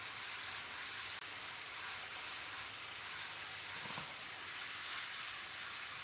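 Airbrush spraying paint onto a vintage lettered sign, a steady faint hiss of air running continuously without pause, close and even, with a tiny click near the start.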